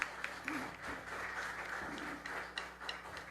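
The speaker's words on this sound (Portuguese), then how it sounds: "Aplauda o Senhor por essa palavra." Steady applause from a church congregation during a sermon, fairly soft and continuous, with a few scattered louder claps and faint voices underneath.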